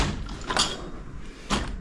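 A drawer in a workshop holding Byrna parts, shut with two quick sliding thumps about a second apart, fairly faint.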